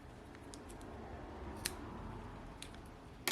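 Scissors snip off excess yarn on a crocheted bear beanie: a few soft, sharp clicks and snips, faint and close, over quiet room tone.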